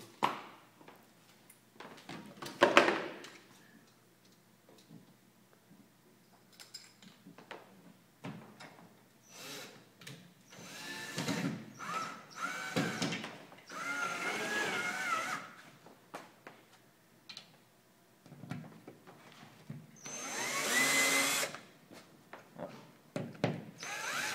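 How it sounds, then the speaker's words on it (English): Screws go into a wall with a power drill to mount a pattern, heard as several separate whirring bursts of varying length with quiet pauses and small handling knocks between them. "just tack it in with some screws"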